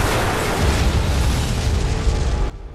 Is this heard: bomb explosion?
yes